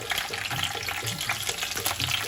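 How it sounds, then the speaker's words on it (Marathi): Curry leaves, green chillies and onion sizzle in hot oil in a pan, a steady close hiss and crackle with small bubbling pops, unbroken and without talk. "तेल गरम झालेलं आहे हा त्यात कढीपत्ता टाकू आणि हिरवी मिरची टाकू आणि कांदा"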